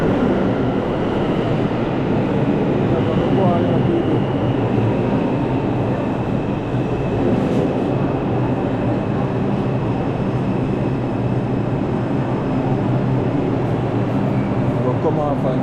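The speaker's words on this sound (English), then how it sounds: "Local 5, train to Bowling Green. Approaching the station." A New York subway 5 train pulls into Bowling Green station, a loud, steady rumble and roar of wheels on rails filling the platform throughout, with a recorded announcement and voices faintly underneath.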